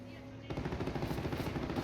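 Machine gun fire in Company of Heroes, a steady rapid burst that kicks in after a brief pause and rattles on at moderate volume with a voice talking over it.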